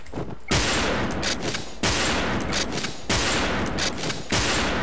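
Video game gunfire sounds in loud, close bursts, with three or four long sustained volleys separated by short pauses.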